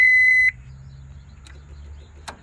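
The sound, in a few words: car warning buzzer with low battery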